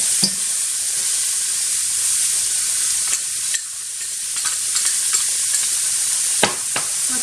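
A lamb stew with carrots and spices cooks in a pan with a constant bright sizzle and hiss, broken by occasional scrapes and knocks of stirring, heard up close without any speech.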